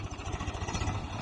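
A tractor engine works pulling out a shrub, giving a steady, close mid-pitched chugging throb for about a second with no talking.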